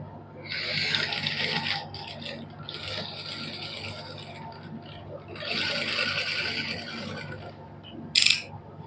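A sewing machine stitches lace onto a suit in two sustained runs of fast, rattling mechanical chatter with a pause between them. A short sharp clack comes near the end, and the machine is heard close up.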